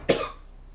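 A single short, sharp cough from a man stepping away from his microphone, close and fairly loud, quickly fading into quiet room tone.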